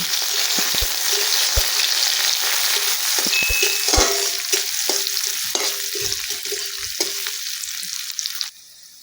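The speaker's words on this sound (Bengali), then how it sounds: "ফোড়নটা একটু ভাজা ভাজা করে নিব।" A Bengali spice tempering of garlic, bay leaves, dried chilli and whole cumin fries in oil in a pan, giving a loud continuous sizzle with scattered pops and crackles that eases off slightly before cutting out at the end.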